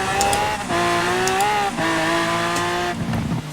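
A red Lamborghini Aventador tuned to 1200 bhp accelerates hard in Forza Horizon 4. The loud engine note climbs steeply through several gear changes, with short breaks at each shift and a faint tire squeal, and no voices.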